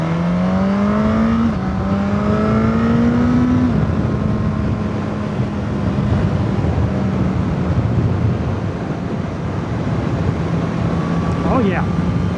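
Suzuki GSX-S1000 motorcycle riding through sweeping corners, its engine drone steady and continuous with shifting pitch as it leans through bends, wind noise rushing over the microphone throughout.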